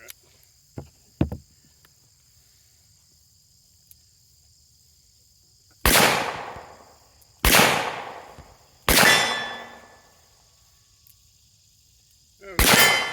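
A revolver fires four loud, sharp shots in an outdoor setting, each with a long ringing decay, spaced a second or two apart, after a few faint clicks and handling knocks; a steady insect-like whine runs throughout.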